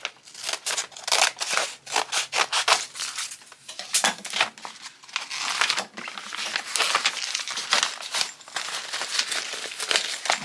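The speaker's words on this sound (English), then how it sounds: "let's trim it off a little" Scissors snip and trim a Cricut sublimation blank, a quick run of close, crisp cuts with papery crinkling and rubbing between them, steady and alone.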